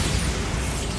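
Bombarda spell explosion in Hogwarts Legacy, a dense broadband roaring burst that stays loud and sustained through the short moment.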